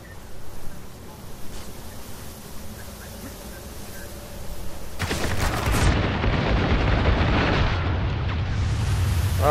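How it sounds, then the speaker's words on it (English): A shotgun blast in the shooter game Spec Ops The Line lands midway through a multiplayer match, a loud close boom that swells into a dense, sustained rumble of gunfire and explosions over the continuing game noise. "I got a lucky shotgun headshot"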